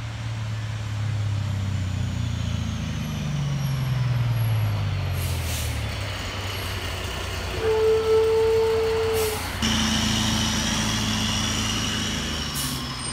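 Triaxle dump truck arriving at a residential site for a delivery, a low engine rumble building and shifting gears, with a sharp air-brake hiss midway and continued idling after.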